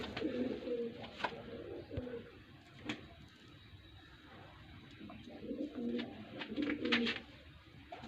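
Pigeons cooing in low, rolling bursts, a few separate calls with pauses between, fairly close over a quiet background.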